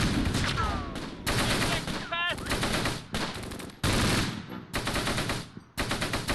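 Dense automatic machine-gun fire fills a World War II battle in the game Close Combat set near Caen, Normandy, with long loud bursts broken by brief gaps and a few whistling shell sounds.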